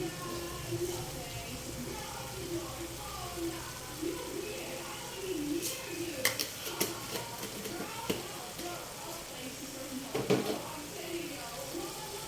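Bamboo shoot vegetables stirred and tossed in a pan with seasoning, giving a soft steady sizzle with scattered scraping and clinking of the utensil against the pan, under a voice talking.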